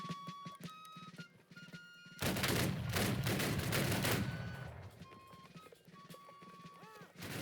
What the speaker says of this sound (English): Hold your ground! Fire at will!